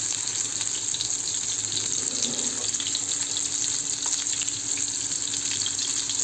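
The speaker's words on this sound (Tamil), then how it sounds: "நான் இறாவை இதில் போட்டுட்டேன். நல்லா நமக்கு பொரிச்சு வருது." Prawns fry in hot oil in a pan with a dense, steady sizzle that runs loud and close throughout without pause, with no talking.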